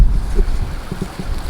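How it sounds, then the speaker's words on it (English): Brief blustery wind buffets the microphone up close, a low rumbling gust with no talking. "Getting a little windy."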